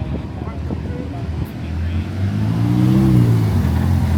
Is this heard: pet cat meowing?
no